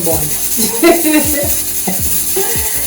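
Butter sizzles and fries in a Dutch pot while a utensil stirs and scrapes at the bottom, with loud, close crackling and several distinct scraping strokes.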